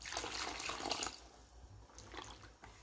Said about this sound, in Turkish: Birazcık su ilave edeceğim.